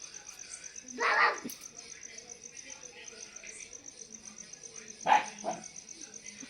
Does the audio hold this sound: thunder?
no